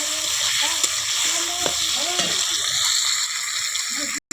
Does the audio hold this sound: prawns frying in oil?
yes